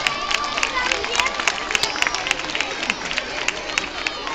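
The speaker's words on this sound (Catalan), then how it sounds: "Molt bé, un aplaudiment molt fort." Schoolchildren at a school falla burning in Valencia clap loudly, a dense, continuous patter of many small hands with sharp individual claps standing out, set amid lively crowd chatter.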